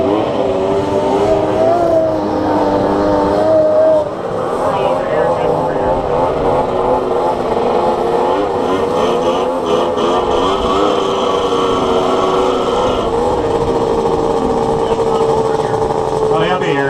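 Single-cylinder motorcycles on a drag strip, a continuous loud engine drone with shifting, wavering pitch that carries on for the whole stretch, with a voice speaking over it at moments.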